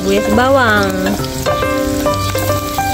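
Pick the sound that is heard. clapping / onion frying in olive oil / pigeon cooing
onion frying in olive oil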